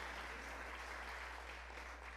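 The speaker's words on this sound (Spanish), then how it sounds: "denle aplausos al Señor esta noche." A church congregation applauds during a Wednesday evening service, a steady, dense wash of clapping that fills the room continuously from start to finish without any voices.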